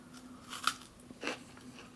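Crunchy freeze-dried peaches from a 1985 MRE being bitten and chewed up close, with two distinct crunchy bites about half a second apart amid quieter mouth sounds.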